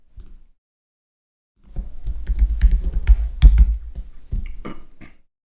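Computer keyboard typing as personal information is entered, a near, steady run of quick clicking keystrokes in several bursts with brief pauses, after a short tap at the start and no talking.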